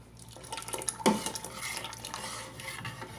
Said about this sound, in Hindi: साथ ही हम अपना मिक्स हुआ आटा डालते जाएंगे और चम्मच की मदद से हम हिलाते जाएंगे